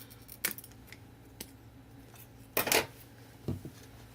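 Scissors snip through the top of a craft supply package, a few short close cuts with a quick double snip near the end, alone in a quiet room.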